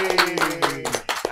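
Audience clapping at a podcast recording welcomes a guest: a short burst of several sharp, uneven hand claps, close and moderately loud, over a faint steady background tone.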